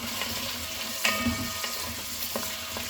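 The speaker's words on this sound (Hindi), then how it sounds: "तो पहले हम वो सारे वेजिटेबल को फ्राई करेंगे जो थोड़ा सा टाइम लगता है कुक होने में, जैसे कि आलू, परवल, मिट्टी के आलू एंड शकरकंद" Potatoes, pointed gourd and sweet potato fry in hot oil with a steady close sizzle, broken by a few sharp clicks and scrapes of stirring.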